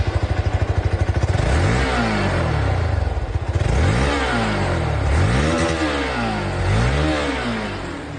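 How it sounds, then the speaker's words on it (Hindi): Hero 200cc motorcycle exhaust, first a fast, even idle thump, then several loud revs that rise and fall in repeated sweeps, recorded close up with no talking. "बाकी दोस्तों इसकी जो एग्जॉस्ट साउंड है वो भी मैं आप लोगों को सुना दूं।"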